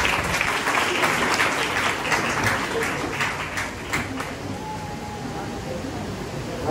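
Loud applause from a crowd at a school Teacher's Day program, dense clapping that fades slightly over several seconds while voices murmur underneath.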